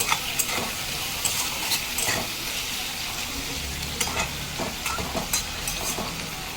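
Mourala fish curry frying in a pan with turmeric, a steady close hiss of sizzling oil broken by scraping stirs and light clinks of a utensil against the pan, with no talking.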